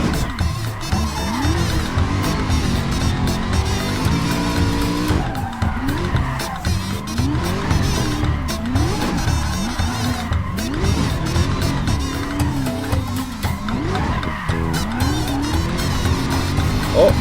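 A car slides sideways under the handbrake through a figure-of-eight drift, with a loud, continuous engine roar that rises and falls alongside tire squeal for the whole stretch.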